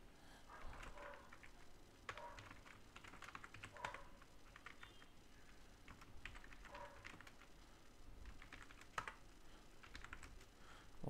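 Typing on a computer keyboard while composing an Outlook email signature: steady, quiet key clicks with irregular rhythm and occasional louder taps, close up and without speech.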